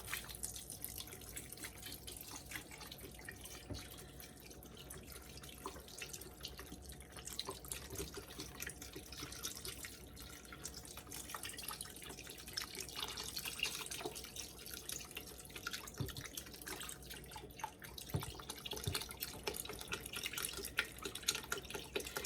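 Beef broth pours steadily into a crockpot for a long stretch, a soft continuous splashing and trickling heard up close and fairly quiet.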